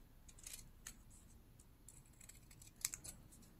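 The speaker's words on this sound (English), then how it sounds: "I need to cut it a little bit smaller." Scissors snipping through old magazine paper, a handful of faint, crisp cuts and clicks scattered irregularly across the clip, with one sharper snip near the end.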